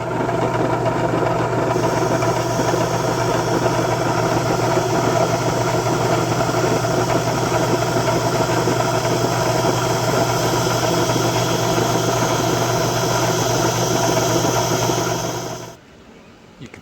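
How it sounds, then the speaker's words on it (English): A bench wire wheel spins steadily with a loud constant whine and hum while carbon is cleaned off engine valves, then stops abruptly near the end. "So I'm just gonna put them on the wire wheel right here and clean them off."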